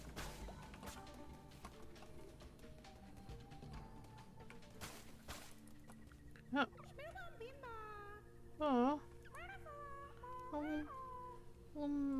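Little mushroom people in the video game Cult of the Lamb let out a run of short, cat-like meows, some rising and some falling, over a low game soundtrack after a few seconds of quieter background sound.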